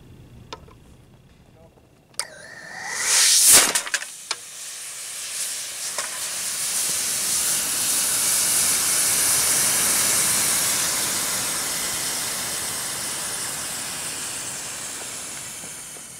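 A model rocket motor, an end burner, fires in a ground test: a sharp ignition burst and crackling pops give way to a loud, steady hiss of thrust that slowly tapers, with a voice briefly heard.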